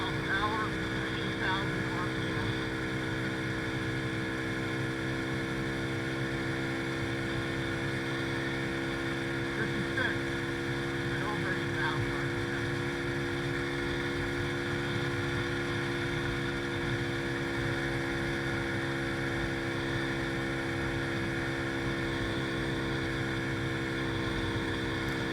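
A Boom Vader 125cc Grom-clone motorcycle runs flat out on a level road near 61 mph, its engine holding a steady, loud droning whine with wind rush for the whole stretch.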